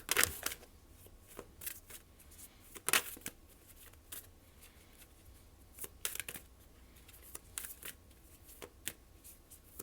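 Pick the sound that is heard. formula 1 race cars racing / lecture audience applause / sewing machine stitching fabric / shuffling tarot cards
shuffling tarot cards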